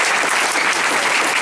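Loud applause from a congregation at a Christian ministry gathering in India, a brief dense burst of clapping.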